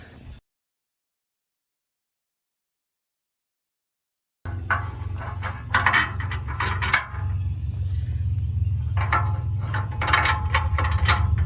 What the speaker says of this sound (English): we'll go ahead and get those other bolts in